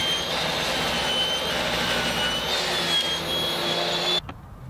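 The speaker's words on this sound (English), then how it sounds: "Now on the crosscut sled, I'm going to remove all the knots from these pieces." A table saw on a crosscut sled trims knots out of pine boards for a guitar body, giving a loud, steady whining roar that holds for about four seconds, then cuts off abruptly.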